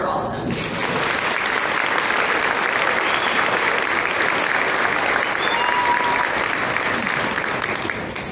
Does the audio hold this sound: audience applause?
yes